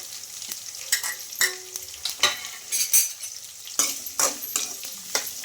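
Sliced onions and curry leaves frying in oil, crackling and sizzling up close while a spoon stirs with scraping strokes at irregular intervals, no voices.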